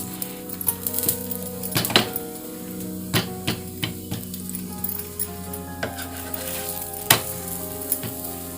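Matar paratha sizzling on a hot griddle as refined oil is spread over it, a steady close frying crackle broken by scattered sharp pops and ticks, with no talk.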